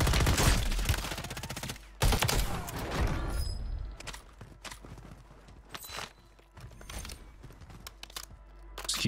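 Rapid bursts of automatic gunfire in the video game Warzone, loud and close, with sharp repeated cracks and short pauses between volleys, plus scattered single shots and footsteps.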